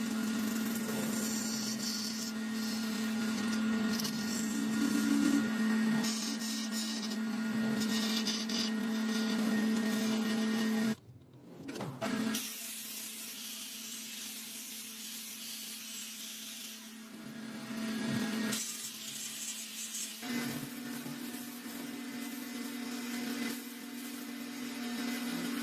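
A wood lathe spins a rough log while a hollowing tool cuts into its inside. The result is a steady, moderately loud whirring drone with a brief break partway through, and no voices.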